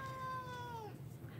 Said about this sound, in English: my cat is acting like a psychopath right now.